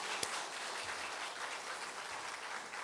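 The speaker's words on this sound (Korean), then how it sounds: "박수 한번 내주십시오" Applause from a church congregation at an evangelism seminar, a soft, even patter of many hands at a distance, continuous without clear peaks.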